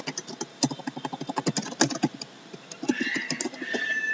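Fingers typing a password on a computer keyboard, a quick run of crisp close key clicks in an irregular rhythm, thinning out toward the end under a faint background tone.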